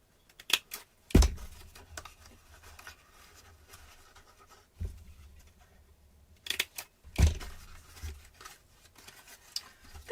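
Scissors snip through card and paper in a few sharp, isolated cuts, close and quiet, separated by soft rustling of the paper being handled.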